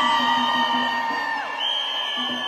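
Women in the crowd at a concert in London scream and cheer loudly together, a sustained shrill roar of high voices and whoops that swells and dips slightly across the moment.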